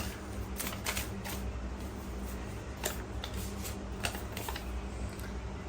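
Playing cards are shuffled close by in repeated quick riffling bursts, crisp but fairly soft over a low background hum.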